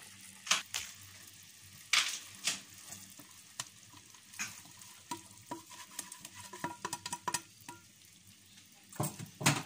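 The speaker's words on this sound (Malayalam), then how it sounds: "ഇതിട്ടിട്ട് നന്നായിട്ട് മിക്സ് ചെയ്തെടുക്കാം ഈ ഷുഗർ സിറപ്പ് ഇതിലേക്ക് നന്നായിട്ട് പിടിക്കണം" Crushed boondi being stirred into sugar syrup for boondi ladoo, with a soft sticky scraping and irregular spoon taps against the pan, close and fairly quiet.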